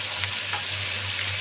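Shrimp frying lightly in a pan with oil for a pointed gourd dorma, a soft continuous sizzle with gentle crackles and a low kitchen hum, no talking.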